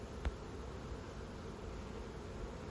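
A faint, steady hum of many honey bees buzzing close by on a hive frame, constant and low, with one brief knock near the start.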